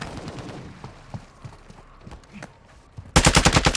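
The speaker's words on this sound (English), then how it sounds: "You are taking effective fire." Automatic weapon fire in Call of Duty MW2 DMZ at Vondel: scattered distant shots and bursts, then a sudden loud, close, rapid volley near the end.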